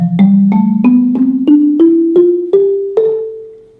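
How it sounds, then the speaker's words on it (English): An Orff bass xylophone is struck with soft mallets, playing nine rounded wooden notes in a steady rising scale, each with a soft attack and short ringing decay, heard alone. "This is the bass xylophone."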